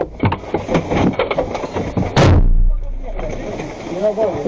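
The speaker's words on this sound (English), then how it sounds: "The Ukrainian commander tosses flashbang grenades through the opening and fires into the breach." A flashbang grenade and gunfire go off at close range during a Ukrainian assault on a breach, one sharp loud blast standing out amid shouting voices and scattered bangs.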